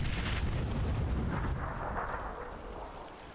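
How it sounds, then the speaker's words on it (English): A grenade goes off in the online game Fallout 76, a loud, dense blast rumble that fills the moment and slowly tails off. "just threw a grenade next to him"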